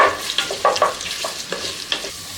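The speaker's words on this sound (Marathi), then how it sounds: "आता हे व्यवस्थित एक ते दोन मिनिटांपर्यंत परतून घ्यायचं आहे कांदे आणि खडे मसाले" Sliced onions and whole spices with cumin seeds sautéing in a pan for a Karnataka-style vegetable pulao: a close, steady sizzle broken by repeated scraping stirs of a spoon, with no talking.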